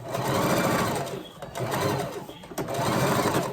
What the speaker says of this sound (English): Back stitch it.